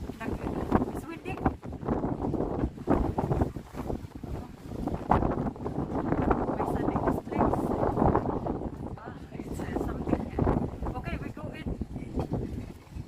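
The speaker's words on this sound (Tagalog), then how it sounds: "It's windy." Strong wind buffeting a microphone on the deck of a ship, loud gusty rumbling that surges and dips unevenly throughout, with a person talking over it.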